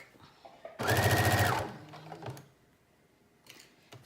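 A cheap sewing machine stitches through thick teddy bear jacket fabric in one loud, rapid burst of under a second, then stops, leaving quiet handling noise.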